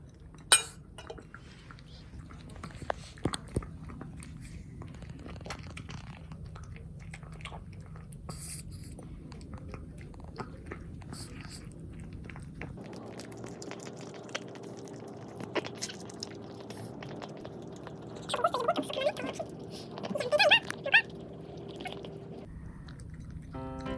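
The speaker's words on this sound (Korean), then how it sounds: "나머지는 버리가 먹어" A dog chewing and eating food, scattered crunchy bites and clinks of dishes at a moderate distance, with occasional soft voices and a low hum in the background.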